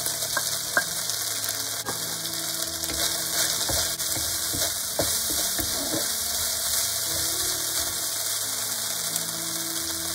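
Fried tofu puffs go into a pan with cabbage stems and fry in a steady, bright sizzle. Occasional clinks and spatula scrapes sound close by over the constant hiss.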